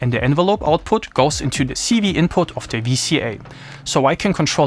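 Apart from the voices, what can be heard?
No everyday noises stand out.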